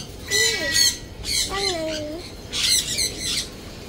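Birds at the Chatuchak pet market in Thailand let out harsh, piercing squawks in three loud, close bursts, with faint market murmur beneath.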